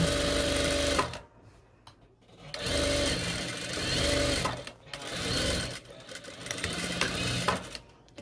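A sewing machine runs a second seam along the edge of a one-piece prayer abaya, whirring loudly in bursts of a few seconds separated by brief pauses, close and mechanical.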